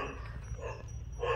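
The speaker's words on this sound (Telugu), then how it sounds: "లోపల పోదామంటే ఆ కుక్క అరుస్తుంది" A dog barks from a short distance on a farm where cattle are kept, the calls rising toward the end over steady low background noise.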